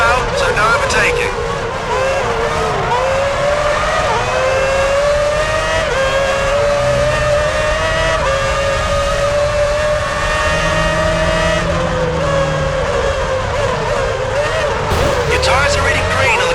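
Formula 1 race cars in the video game F1 2006 scream under acceleration with high, rising engine whines, several cars close together, loud throughout and mixed with game commentary.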